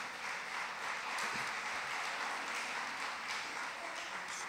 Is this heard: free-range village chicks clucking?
no